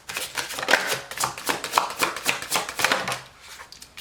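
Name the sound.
shuffling tarot cards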